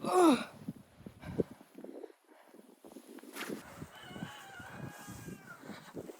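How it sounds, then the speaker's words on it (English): A rooster crows once at the start, distant but clear, followed by quiet rustling and faint footsteps in deep snow. "I can hear the rooster crow."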